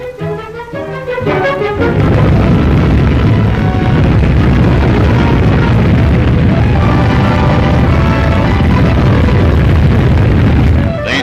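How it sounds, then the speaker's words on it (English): A French nuclear bomb test, comparable to the Hiroshima and Nagasaki bombs, produces a sustained loud roaring rumble. It begins with a short sharp onset and continues as a dense, thundering blast. "This first blast is on a level with bombs exploded over Hiroshima and Nagasaki in World War II."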